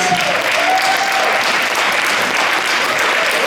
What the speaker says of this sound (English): Please give this amazing mom a warm round of applause.